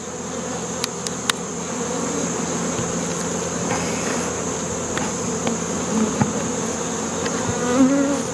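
Honey bees buzz steadily around a queen cage in a hive during a late-summer colony check, a close, continuous drone with a few sharp clicks and knocks.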